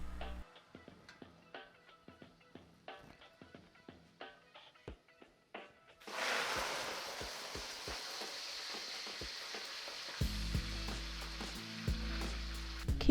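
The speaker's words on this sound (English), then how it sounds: "Keep the stove on medium-low and fry until the aromatics starts to brown." Spices with green onion and cilantro aromatics frying in oil on a medium-low stove for a Sichuan-style chilli sauce: scattered crackles, then a steady, louder sizzle as they drop in, with a few later bursts of clatter.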